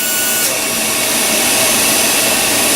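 A rotary tool bevels the edge of an edentulous custom dental tray, giving a steady, close, high-pitched whirring grind that holds at an even level throughout, with no talking.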